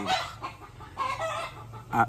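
Hens cluck and roosters crow close by, several bursts of loud clucking and calling with no voices.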